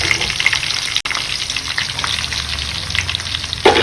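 Onions frying with garlic and ginger for a raw mango chicken masala, a loud steady crackling sizzle close by, with a short break and a sharper burst at the end.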